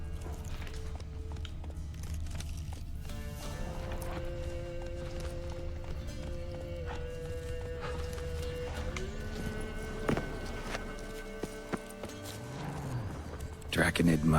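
Roach the horse gallops through The Witcher 3 with steady hoofbeats under layered game music and ambience, while a voice speaks over part of the run.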